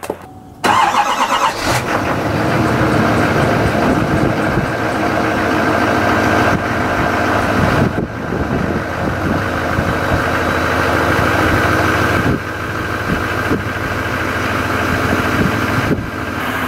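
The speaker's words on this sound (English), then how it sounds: "It's currently about 20 degrees and we're gonna do a cold start." Toyota truck cold start on a frosty morning around 20 degrees: a short cranking burst catches into a loud, steady idle that runs on with small fluctuations.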